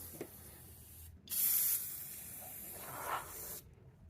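Aerosol spray of satin black coating onto a Jeep's metal, two close, steady hissing bursts, the second longer, with quiet handling noise between them.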